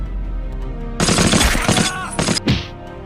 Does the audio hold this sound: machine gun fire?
yes